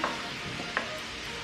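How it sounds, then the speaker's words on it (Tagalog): Chicken fries in a pan, a steady close sizzle with a few small pops. "Nagpiprito pa ako ng chicken dun"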